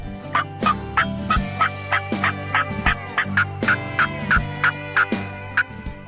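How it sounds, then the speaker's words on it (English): A wild turkey gobbles repeatedly in quick rattling bursts, loud and fairly close, with several calls in succession. "Turkeys have a language, and everything that a turkey says means something."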